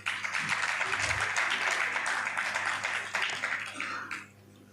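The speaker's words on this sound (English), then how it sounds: "Please, a round of applause." A crowd at a university gathering claps steadily for several seconds, a dense, loud wash of applause that fades out near the end.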